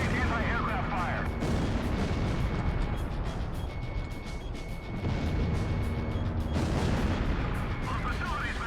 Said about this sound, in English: Initiate anti-aircraft fire.